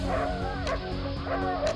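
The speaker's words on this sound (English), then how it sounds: "Larger breeds like German Shepherds have loud, commanding barks." A dog gives repeated yipping, whining barks with a high, strained tone, close and continuous over a steady background hum, with no talk.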